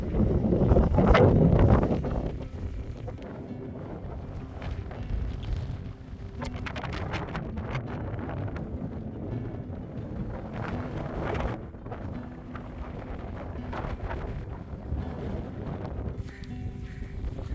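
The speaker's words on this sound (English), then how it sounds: "The breeze is amazing because it's windy" Steady wind blows across an open mountain summit on North Baldface in New Hampshire, a continuous rushing buffet against the microphone with a stronger gust at the start, no voices.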